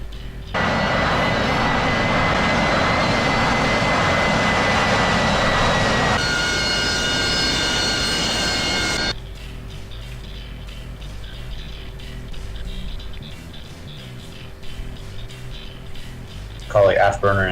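A jet aircraft spools up for launch in a video game on an anti-piracy raid mission. A loud, steady engine roar with a rising whine builds, then drops to a quieter hum as radio-style voices talk over it.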